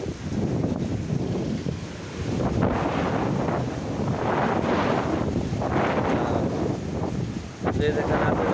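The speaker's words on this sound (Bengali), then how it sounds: "ঘূর্ণিঝড় এটা রেমাল রেমাল ঘূর্ণিঝড়, এটা খুব ভয়াবহ।" Strong wind from Cyclone Remal at sea aboard an anchored ship, gusting roar and buffeting against the microphone in surging waves, loud and continuous.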